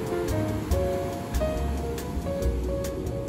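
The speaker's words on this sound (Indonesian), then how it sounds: "Ya jadi ini keadaan pantai pada jam 1 siang ya." Surf washing onto the beach at Parangkusumo at one in the afternoon, a steady broadband roar with gentle swells rising and falling throughout, fairly close and with no talking.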